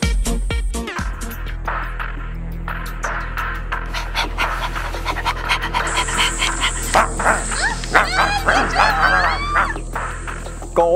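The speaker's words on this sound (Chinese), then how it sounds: "我们不如来找一只比较凶恶的狗" A fierce dog pants heavily and rhythmically up close, with a few barks breaking in toward the end over a faint background.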